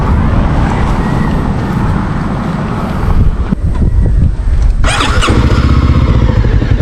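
A Benelli motorcycle engine runs steadily and loud at close range, a throbbing idle with wind buffeting the microphone, a brief dip near the middle and a short rise in revs toward the end, no one speaking.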